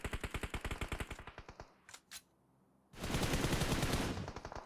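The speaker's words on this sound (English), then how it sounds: "Bullets just constantly being barraged their way now." Rapid automatic gunfire in the mobile battle royale game PUBG Mobile during a tournament match, a fast string of sharp shots, a brief pause with a couple of single cracks, then another dense burst, loud and close with no talk.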